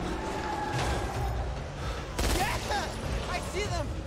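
Automatic gunfire in the zombie shooter Back 4 Blood, a burst of rapid shots with a sharp onset midway through, mixed with game sound effects and creature cries, loud and fairly close.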